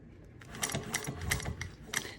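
A Juki 1541s sewing machine running two threads with no thread guide while stitching a lined bag, giving a short burst of rapid mechanical clacking, close and alone, about a handful of sharp stitch beats in two seconds.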